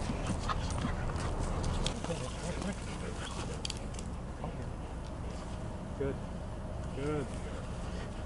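Dogs aboard a boat whimper faintly in a few short, high whines, buried under a steady wash of wind and engine noise.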